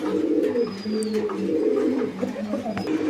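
Pigeons at a breeding farm that keeps pairs of Danish pigeons, black and red, cooing steadily and close by in low repeated murmurs, with faint chirps over a busy room background.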